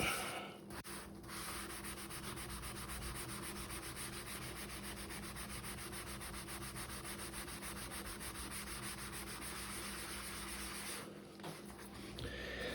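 A sponge scrubbing a stain on a quartz countertop makes a steady, even rubbing rasp that runs almost unbroken, close and fairly quiet, with a short break near the end.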